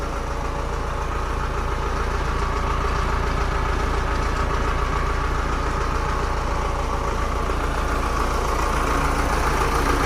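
A 6610 tractor engine idles steadily at close range, a dense, continuous low rumble with a slight knocking texture and no variation in loudness across the whole stretch.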